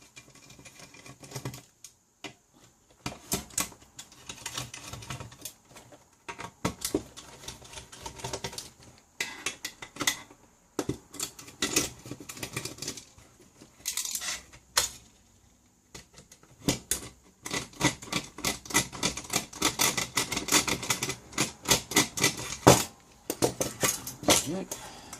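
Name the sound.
removing screws from switch mode power supply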